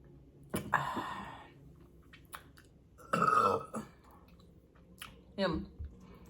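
Three loud burps, at the start, middle and end, come from someone eating a loaded nacho mukbang meal, with close wet chewing and crunching in between.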